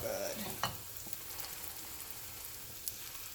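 Hotteok, Korean sweet filled pancakes, sizzle steadily in an oiled pan, a close continuous frying hiss with one brief clatter as a pancake is flipped, and no talk.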